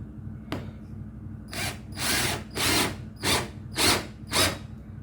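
Cheap cordless electric screwdriver set to speed 2, whirring in five short bursts of about half a second each, close and fairly loud, each burst followed by a brief pause, with a faint click near the start.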